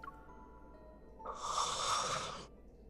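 A video game character breathes heavily in a romance scene of Love and Deepspace: one breathy, hissing exhale-like burst swells up in the middle and fades, faint and close.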